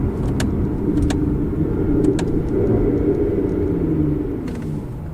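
Aston Martin Vanquish engine downshifting smoothly from fourth to first, a steady low rumble heard from inside the car, continuous and fairly loud with a few faint clicks and rattles over it.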